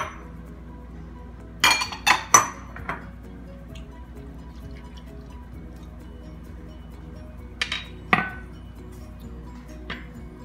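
A whisk mixes ingredients for a Swedish bacon pancake batter in a bowl. Bright metallic clinks come in two short clusters of quick taps, separated by quiet stretches with a faint steady room hum.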